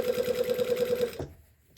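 Sewing machine stitching a jeans hem with a size 16 needle and 2.5 mm stitch length, a steady rapid run of close mechanical stitches that stops abruptly near the end, leaving quiet.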